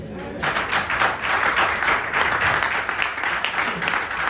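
A church congregation applauds to acclaim the Lord, a steady, dense burst of many hands clapping that rises quickly and carries on, with some voices mixed in.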